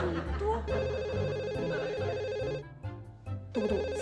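A telephone ringtone plays on and off in a comedy scene, a steady electronic melody with short breaks, sounding over music and background voices.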